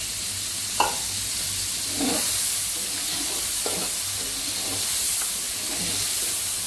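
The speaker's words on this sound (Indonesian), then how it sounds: "diaduk sampai merata." Duck curry gets stirred in a pan, a spoon scraping in a few soft, spaced strokes over a low steady sizzle, quiet and close.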